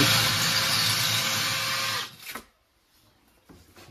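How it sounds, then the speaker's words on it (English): A power drill runs loudly and steadily for about two seconds, then winds down and cuts off, followed by quiet with a faint knock. "Just got a first hole drilled."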